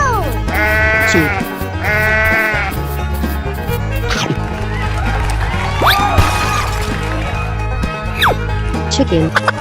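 Sheep bleat in several loud, wavering cries, repeated in quick succession near the start and then sporadically, with other animal-like calls and chatter layered over a continuous background.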